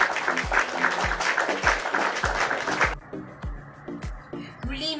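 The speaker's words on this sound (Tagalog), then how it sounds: "Isang malakas na palakpak para sa lahat." Classroom applause from a group of schoolchildren during an elementary social studies lesson in the Philippines, dense clapping for about three seconds that then thins as a rhythmic thumping pulse carries on underneath.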